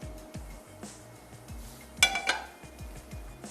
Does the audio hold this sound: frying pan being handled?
yes